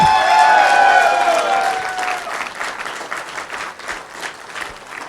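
An audience at a seminar event breaks into loud applause that gradually thins out and fades over a few seconds, dense clapping from a large crowd.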